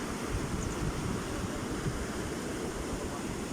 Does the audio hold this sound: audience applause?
no